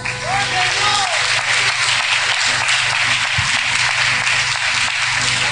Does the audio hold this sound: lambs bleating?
no